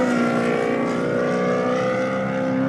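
A converted Pro 2 off-road race car from the Gold Coast, V8-powered, at the Finke Desert Race, holds a loud, steady, close engine drone with strong harmonic whine and no talk.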